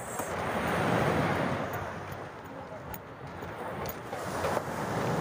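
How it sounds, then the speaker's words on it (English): Surf rolls in at Mistral Beach in Marbella as a broad, steady wash of waves, close and full, with wind buffeting the microphone throughout. "welcome to Mistral Beach in Marbella"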